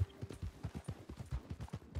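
Horse hooves clip-clop in Red Dead Redemption 2 Online, a quick, even run of soft thuds at a trotting pace, faint and alone with no talk.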